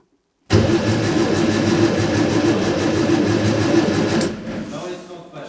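A Fiat 600 engine cranks over and catches, a loud steady churning rumble running for several seconds with no talk before fading down near the end.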